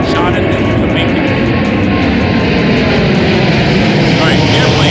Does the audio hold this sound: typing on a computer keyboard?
no